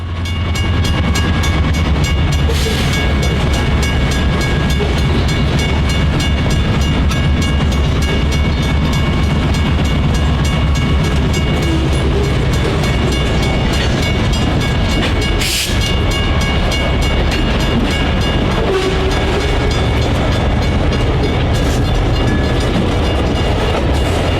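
Norfolk Southern locomotive 5094 shoving a freight train toward Dawn Foods on the Amtrak Michigan Line, a steady loud rumble of engine and rolling cars with brief sharper bursts, continuous throughout.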